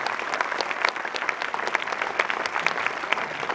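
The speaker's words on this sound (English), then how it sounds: "Let's give a round of applause to Rob and Sherri, guys" An audience applauds Rob Zombie and Sherri Moon Zombie at a film Q&A, a steady dense patter of clapping throughout, moderately loud with no voices standing out.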